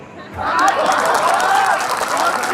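Spectators at a Hindi comic poetry gathering break into applause that swells after a quiet moment into a steady roar of clapping and crowd noise, with voices in the background.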